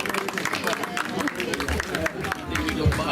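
Applause for a performer named Gavino at an Atzara poetry event, a dense wash of clapping and crowd murmur that stays steady and fairly loud from start to finish.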